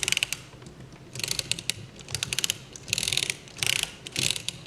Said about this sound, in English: When it's in either on state, the flywheel spins.